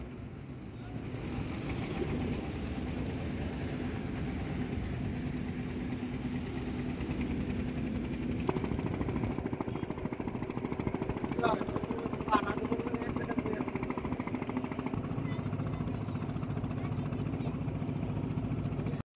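A trawler boat motors along the Pasur river in the Sundarbans, its engine throbbing in a steady low drone for the whole stretch, with faint knocks and voices over it.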